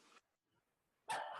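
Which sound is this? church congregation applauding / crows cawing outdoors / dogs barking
dogs barking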